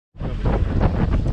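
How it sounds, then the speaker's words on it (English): Wind gusts across choppy water at Lake Berryessa under overcast skies. The wind roars loud and close against the microphone, cutting in suddenly and lasting just over a second. "As you can see, it is windy. It's rough. It's choppy."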